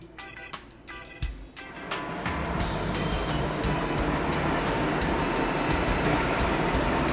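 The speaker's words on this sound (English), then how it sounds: "And this is an air compressor." An air compressor runs at the ultrafiltration system of a reverse osmosis water plant, a steady loud mechanical roar building after a few short clicks and knocks, then holding constant to the end.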